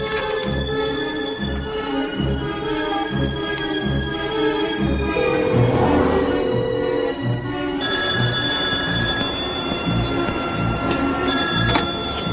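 A telephone in a New York phone booth rings repeatedly, a bright electronic bell pattern with rhythmic pulses over a low background hum, close and clear with no speech.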